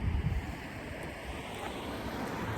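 Ocean surf on the Tasmanian coast, a steady broadband wash of breaking waves mixed with gusty wind buffeting the microphone, continuous and fairly close with no voices.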